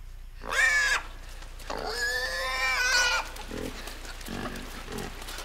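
Pigs on a farm in the video game Inside, loud squealing grunts in two long bursts followed by softer snorts and grunts, close and clear, with no talking over them.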